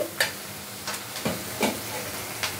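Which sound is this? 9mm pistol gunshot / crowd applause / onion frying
onion frying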